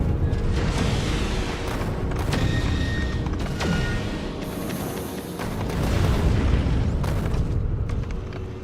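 Rockets explode again and again in Factorio Space Age on a shattered planet. Heavy booms and rumbling bursts overlap in a dense, continuous barrage that swells loudest toward the end.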